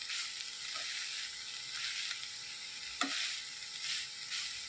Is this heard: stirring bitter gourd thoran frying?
yes